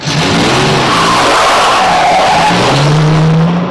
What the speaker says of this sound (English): He's just leaving the control tower in a motor car.